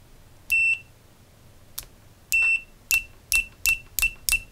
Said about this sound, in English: Now it's set on continuity or beeping signal.